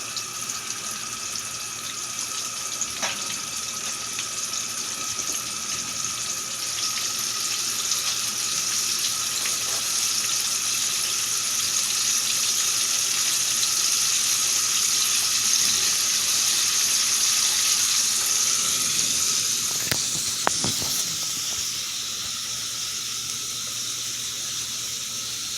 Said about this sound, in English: North Atlantic codfish going in there, southern fried style